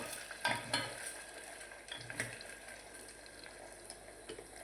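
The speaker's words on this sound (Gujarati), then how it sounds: "બટાકાને થોડીક વાર તેલમાં પાકવા દઈશું." Skin-on potatoes cook in oil in a pan for a potato curry, giving a soft background sizzle broken by a few scraping stirs, quiet and close, with no speech.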